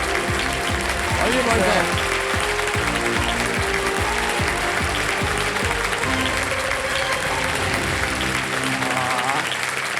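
Studio audience of the quiz show Kaun Banega Crorepati claps loudly and steadily for a contestant, a dense sustained wash of applause throughout, with a host's voice speaking over it briefly.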